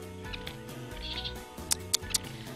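Three quick, high sparrow chirps near the end, sharp and close, over a steady humming background with low tonal sounds.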